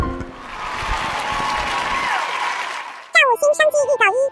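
A studio audience at a fried-food cooking show claps in a dense, steady burst of applause for about three seconds, then a voice speaks clearly.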